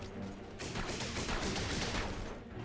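Sustained gunfire in the third-person shooter The Bureau, a dense burst of rapid shots forming a loud, continuous clattering volley that peaks mid-clip and fades slightly at the end.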